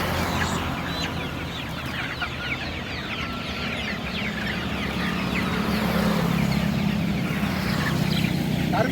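Chickens cluck steadily at a roadside poultry seller's stall, a dense outdoor mix of birds over a constant low background hum, with no one speaking.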